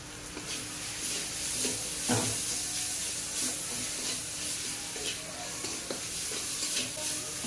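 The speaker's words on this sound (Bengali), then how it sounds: "মশলা ভালোভাবে তো কষানো হয়ে গিয়েছে" Cumin, coriander and Kashmiri chilli powders sauté with tomato in a pan for a river fish curry, an even close sizzle with occasional spoon scrapes and stirring knocks, steady and unaccompanied by talk.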